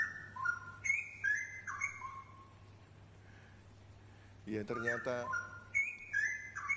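Songbirds, a jejak rowo, chirping and whistling in clear repeated phrases close by, with a short stretch of a voice speaking partway through and a low steady hum underneath.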